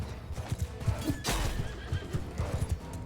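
Horse neighing in the Mount & Blade II Bannerlord battle, a sharp whinny rising over a steady run of hoof clip-clops and thudding combat noise, fairly close and loud.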